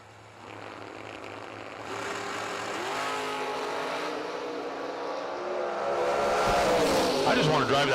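Mustang drag car launching down a drag strip at a summer racing event, engine roaring louder and building over several seconds with rising revs, under a track announcer's voice and crowd noise.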